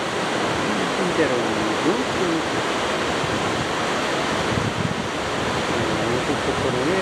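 Yongchu Waterfall in Chilyeon Valley on Deogyusan, Muju, gives a steady, close rushing roar of falling water that never lets up, with someone talking over it.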